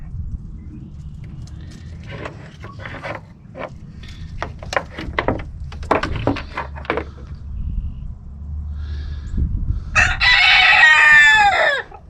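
Several roosters crowing loudly near the end, with a long strained crow rising over a rural backdrop of scattered clucks, thumps and a low steady hum.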